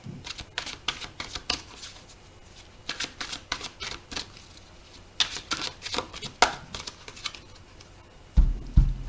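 Oracle cards from the L'oracle des miroirs deck are shuffled by hand in quick, papery bursts of flicking and sliding, with pauses between runs and a heavier thump and rustle near the end.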